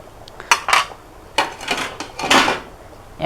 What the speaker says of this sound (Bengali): হালকা হালকাভাবে একটু নেড়ে ছেড়ে দিতে হবে যেন তলে লেগে না যায়